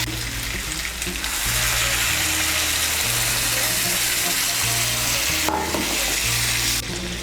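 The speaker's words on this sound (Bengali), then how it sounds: "আমি এর মধ্যে 3 কাপ গরম জল দিচ্ছি।" Three cups of hot water poured into a frying jackfruit and potato curry set off a loud, steady rushing hiss and bubbling sizzle that fills the whole stretch, with a brief sharper splash partway through.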